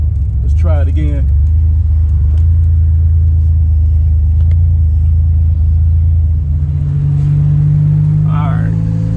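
A Buick Grand National drives with a steady low engine rumble and road noise heard from inside, as a rising whine and a shift in pitch mark gear changes, with no voices.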